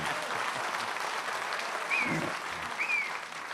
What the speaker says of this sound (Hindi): तालियां इस पर कमजोर तालियां